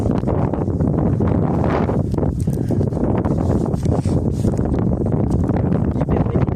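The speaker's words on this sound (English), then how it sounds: "It's a bit windy though." Strong wind buffets the microphone outdoors on a blustery day in a field while metal detecting, a continuous loud low roar with gusting rustle and no speech.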